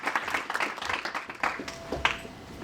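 Audience at an award ceremony applauding, a scattered, moderately quiet round of clapping from a modest crowd, uneven claps rising and falling, with some faint background sounds.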